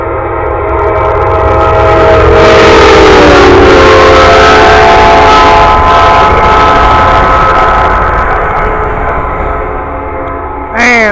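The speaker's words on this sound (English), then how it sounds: "there it goes, Amtrak train, the Silver Star" A loud Amtrak Silver Star passenger train roars past close by, sounding a long blaring horn over the heavy rumble of wheels on rails.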